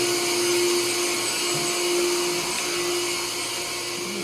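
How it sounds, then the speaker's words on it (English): An electric fan runs steadily at close range, a constant whirring drone with a strong motor hum, staying even and unbroken throughout without any talk. "So let's turn on the fan."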